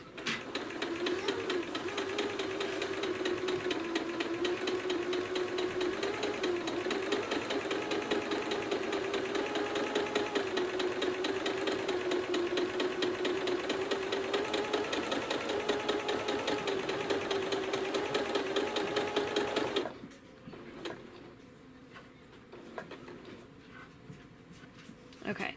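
A sewing machine works slowly through thick, bulky quilted seams on a fabric bottle tote, a steady, even motor drone holding for about twenty seconds before it stops and the room goes quieter.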